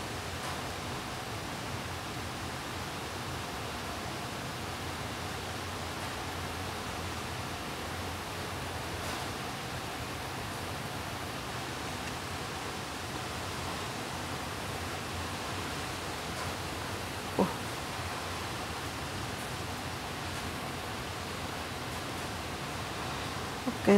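Heavy rain falling outside a house at night makes a steady, dense, even wash of noise throughout, with a faint knock or two and no talking.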